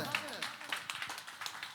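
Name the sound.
audience applause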